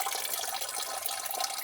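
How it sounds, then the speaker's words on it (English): Coolant drains from the lower radiator hose of a Dodge RAM 1500 with a 5.7L engine, a steady close splashing rush of liquid with no voices. "there could be a decent amount of coolant still in here"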